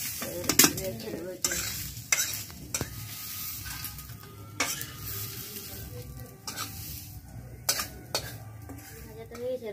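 Puli pitha filling frying and being stirred in a pan, with steady close sizzling and repeated sharp scrapes and clinks of a utensil against the metal.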